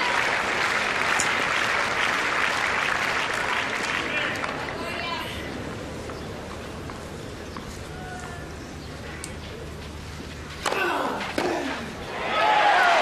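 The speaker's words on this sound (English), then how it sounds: "So a cheer as the Agassi serve forces the error." A tennis crowd at a Rome 2005 semifinal claycourt match cheers and applauds, loud at first then easing off, with a fresh burst of clapping near the end under commentary voices.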